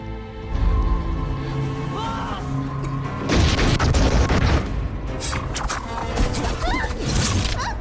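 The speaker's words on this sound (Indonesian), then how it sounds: "Terjadi tembak-menembak antara mereka berdua" Loud bursts of gunfire and booming impacts crash over a tense film score, with sharp cracks clustering midway and again near the end.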